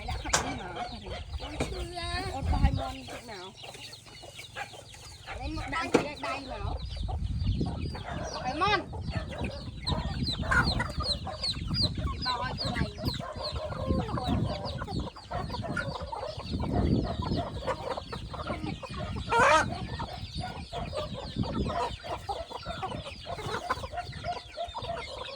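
Chickens clucking continuously at a coop by the rice fields in rural Cambodia, a busy, close flock with brief voices talking now and then.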